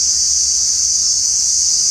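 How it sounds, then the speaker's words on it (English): Crickets chirp in a steady, dense high-pitched drone that runs unbroken and fairly loud throughout, with no voices. "crickets are loud."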